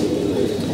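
Young pigeons being settled in for training coo in a continuous low, throaty burble at moderate volume, close up and without any voices.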